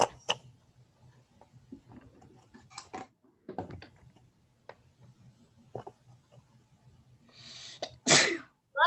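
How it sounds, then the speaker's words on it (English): A person sneezes loudly near the end of a quiet classroom stretch. Soft keyboard typing and small desk noises come before it, then one more sharp burst right at the end. "Quite the sneeze."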